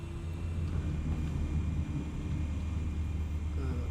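A spy drone hovering outside a window in the Batman Telltale video game, heard as a steady low hum and rumble that stays even and moderately loud throughout.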